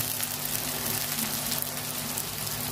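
Onion and tomato frying in a pan as ginger garlic paste goes in for a Bengali chicken curry, a steady, loud, dense sizzle that stays continuous and close throughout.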